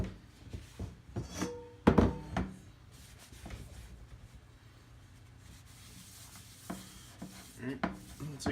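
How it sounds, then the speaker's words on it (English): A seasoned cast iron skillet is wiped clean of oil with a cloth, giving soft rubbing and scraping strokes with a few sharp knocks and clunks, quiet and close, with no talking. "Wipe down the top, wiping down the sides."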